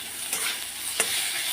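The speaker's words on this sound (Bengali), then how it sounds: "এই যে পোস্তটা ভাজা হচ্ছে" Poppy seeds frying in a pan, a continuous soft sizzle with a couple of brief stirring clicks.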